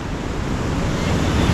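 Strong ocean surf pounds a beach along the coast of Casiguran, Aurora, as a loud continuous roar of crashing waves mixed with wind noise, with no voices.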